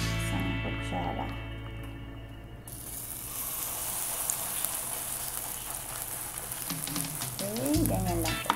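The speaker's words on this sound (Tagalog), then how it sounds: "Okay, so ipiprito na. So yan, mainit na yung kawali." A sardine patty fries in a hot pan with a steady crackling sizzle, joined by a few clatters of a utensil and faint talk in the background.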